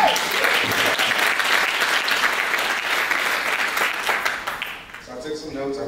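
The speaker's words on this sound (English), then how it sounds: "So round of applause to all of you." Loud, dense applause from a conference session audience fills the room for about five seconds before fading, with a voice speaking as it dies down.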